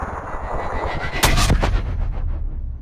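A single loud sniper rifle shot in the video game Sniper Ghost Warrior Contracts, a sharp booming crack followed by a rumbling tail that fades away, standing alone over a low ambient game background.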